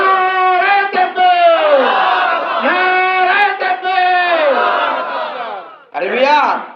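Crowd at a Bangla religious gathering chanting a religious slogan in loud unison, sustained voiced phrases repeated in rhythmic bursts with brief pauses between them.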